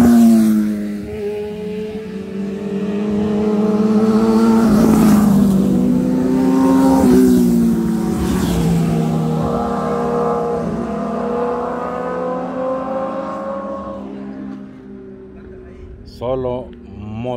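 Loud engine noise with rising and falling revs, motorcycles speeding past close by on a highway with people talking over the roar throughout.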